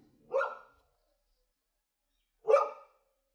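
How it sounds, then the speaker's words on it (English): A dog barks twice at something it has found outdoors, a blue-tongued lizard. The two short, sharp barks are about two seconds apart, moderately close, with silence between them. "My dog has found a blue-tongued lizard."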